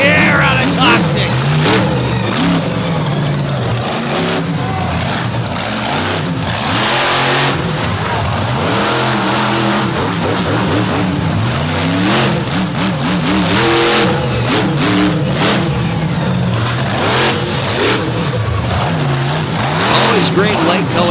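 Off-road racing trucks rev hard and charge across a slick dry-grass course at an Illinois event, engines roaring loudly and continuously with rising and falling pitch, under an announcer's ongoing commentary.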